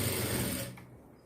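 A sewing machine stitching along a folded blouse strip, giving a fast, continuous buzzing rattle up close that runs for well over half a second and then stops abruptly, leaving near silence.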